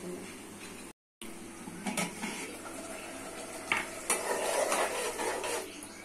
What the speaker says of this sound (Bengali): দিচ্ছি টমেটো কুচি, কষে নিতে হবে।